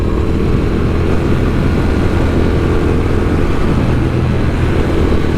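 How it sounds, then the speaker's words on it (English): A steady, loud engine drone with a deep low rumble runs unbroken throughout, a new Triumph Speed Twin motorcycle cruising through Vance and Hines aftermarket pipes. "Check out the sound of that engine as well through the Vance and Hines pipes."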